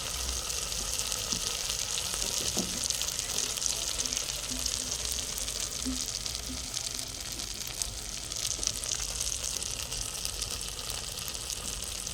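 Masala spices sizzle in hot oil over a traditional wood-fired village stove while chicken is cooked, a dense, loud, continuous crackling hiss with faint scattered knocks and no one speaking.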